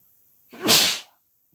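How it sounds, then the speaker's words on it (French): A single sharp sneeze bursts out near the middle, loud and close, with quiet before and after it. "je vais avoir encore envie d'éternuer"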